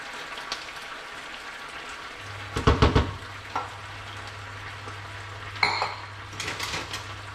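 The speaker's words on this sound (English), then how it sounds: "Just give that a stir" A utensil scrapes and clinks against a pan while honey chicken sauce simmers with a gentle bubbling sizzle, giving a few clustered bursts of stirring and a steady low hum underneath.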